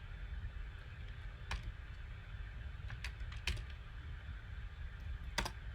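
Quiet keyboard clicks while coding CSS for a web challenge: a few sharp, scattered keystrokes and short bursts at irregular intervals, faint over a steady low room hum, with no one talking.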